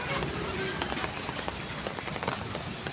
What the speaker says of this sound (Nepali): पानी पर्दैछ